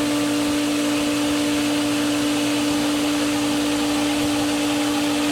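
A pool filter pump runs again after being switched back to filtration, producing a constant, close, loud whirring hum with a steady tonal drone and no pauses.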